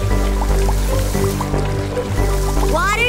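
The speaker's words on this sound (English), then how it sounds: "Water drops in the cloud get bigger, then it rains." Small water drips plink in an irregular pattern over a steady low humming tone, with a rising chirp near the end.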